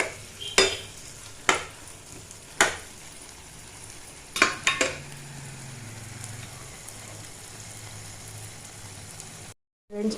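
A pan of bitter gourd gojju simmers with a soft continuous sizzle while a spoon scrapes and taps the pan several times in short, sharp bursts, with no talking.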